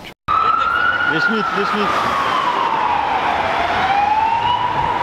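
An ambulance siren wails on a street in Budapest, one long rising and falling tone sweeping slowly, loud and fairly close. A short voice cuts in early over the street noise.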